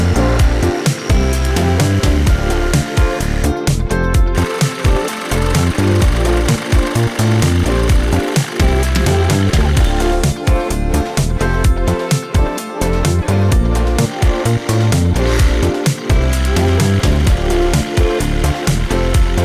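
A Parkside 20 V cordless reciprocating saw cutting, loud and close, with a choppy rapid stroking buzz and short pauses between bursts, no talking.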